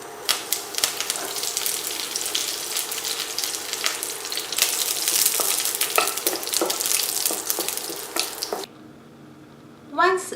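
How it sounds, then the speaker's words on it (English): Mustard seeds and curry leaves spluttering in hot coconut oil for a Kerala cabbage dish, a crackling sizzle dense with rapid pops that cuts off into quiet near the end. "add 1 tablespoon of coconut oil, half teaspoon of mustard seeds, and allow it to splutter"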